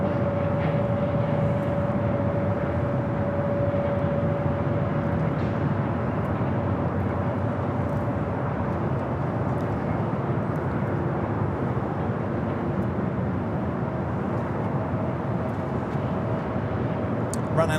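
A British Airways airliner departing LAX to the south, a distant steady jet rumble with a faint engine whine, sustained and even for the whole stretch, under occasional light talk.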